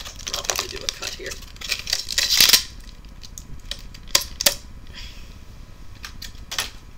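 Sharp snips and crinkling of plastic as secure packaging for a Mattel Barbie Peek-a-boo Petites Cowardly Lion toy is cut open, a cluster of cuts followed by scattered clicks and rustles.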